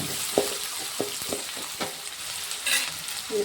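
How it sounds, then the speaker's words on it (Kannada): Onions with fresh ginger frying in a pan, a continuous close sizzle punctuated by several sharp spatula taps and scrapes, no voices present. "ಈರುಳ್ಳಿ ಒಂದು ಸ್ವಲ್ಪ ಕೆಂಪಗಾಗತ್ತನ ಫ್ರೈ ಮಾಡ್ಕೊತೀನಿ ರೀ"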